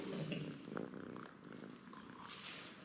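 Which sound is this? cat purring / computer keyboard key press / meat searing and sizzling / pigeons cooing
cat purring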